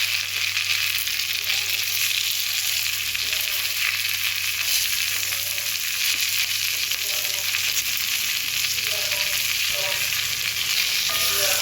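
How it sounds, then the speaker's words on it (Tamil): Chopped onion and drumstick leaves sautéing in a pan, a loud, steady sizzle filling the whole stretch with soft scraping stirs underneath and no voices. "முருங்கைக்கீரையும் வெங்காயம் நல்லா சேர்த்து நல்லா வதக்கணும்."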